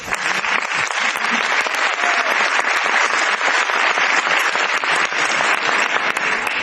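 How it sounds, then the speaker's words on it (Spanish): Sustained, steady applause from a seated audience at a tribute event, loud and dense with no pauses, clapping evenly throughout. "Puntual, vamos a aplaudirlo."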